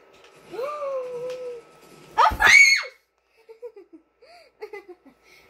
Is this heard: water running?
no